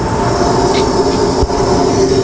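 Compressed natural gas flowing into a 2012 Honda Civic GX at a fueling station, a steady loud rushing hiss with a low rumbling roar underneath, continuous throughout with one brief dip.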